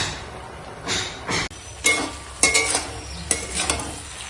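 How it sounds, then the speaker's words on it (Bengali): Spinach ghonto with fried lentil bori sizzles in a pan. A steady frying hiss runs under repeated scraping stirs and a few sharp clinks of a spatula against the metal. "বড়ি দিয়ে এখন ভালো করে পালং শাকের ঘন্টটা ভেজে নেবো"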